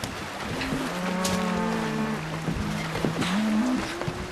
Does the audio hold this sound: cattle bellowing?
yes